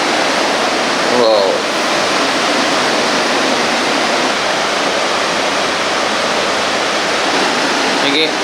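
A large waterfall beside a resort in Munnar roars as a steady, loud broadband wash of falling water, continuous and unbroken throughout with no voices.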